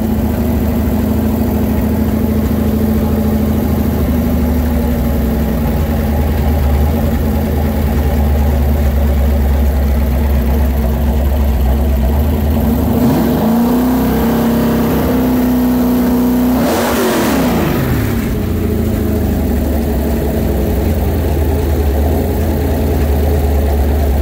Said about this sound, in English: Here's your beautiful 427 Ford engine.